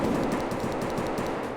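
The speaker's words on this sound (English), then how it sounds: "We are really listening out where the gunshots are coming from" Automatic gunfire from the shooter game Escape From Tarkov on the Factory map, steady rapid bursts of shots for the whole stretch, loud and dense with no talk.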